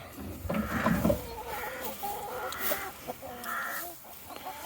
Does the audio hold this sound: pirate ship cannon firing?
no